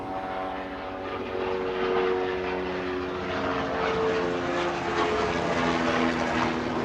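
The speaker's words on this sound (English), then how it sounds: "Helicopters." A steady, droning engine roar of helicopters overhead fills the whole stretch, loud and continuous.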